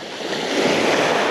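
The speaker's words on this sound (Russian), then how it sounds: "Как видите, волна," Small sea waves wash continuously onto the shore at Lazarevskoye near Sochi on a calm morning, a steady close surf hiss with light wind noise and no voices.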